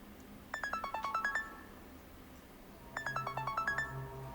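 Two bursts of a bright electronic ringtone melody, each a quick run of about ten rising and falling beeps, separated by a second of quiet.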